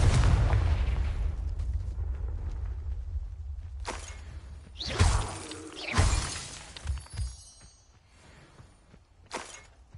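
Bombarda and Confringo blasting spells exploding in Hogwarts Legacy, several loud booming, shattering blasts at irregular intervals after a rumbling opening, with quiet gaps between them.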